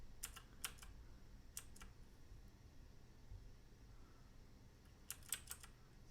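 Keys on a mechanical keyboard clatter in short bursts of a few quick taps, fairly faint over a low steady background hum, with long pauses between the bursts.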